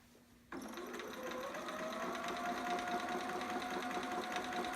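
A sewing machine starts abruptly and stitches steadily and close by, sewing elastic on a baby sitter romper with back stitching, a continuous mechanical whir and rapid needle ticking that holds even after the start, with no talk.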